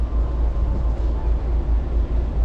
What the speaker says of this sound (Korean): 이 24시간인가 슬리핑 기차 이거 이것도 잘 걸려야 돼요